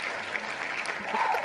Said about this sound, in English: Clapping and so everything.